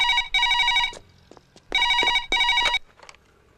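A telephone rings in a bright electronic double burst, two rings, a short pause, then two more, loud and close with faint rustling between and no talk.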